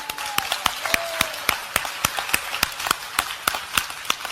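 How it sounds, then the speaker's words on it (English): A church congregation claps for a pastor in steady, evenly spaced rhythmic claps, loud and close, continuing alone for several seconds. "Let's give a good clap to Pastor Elizabeth."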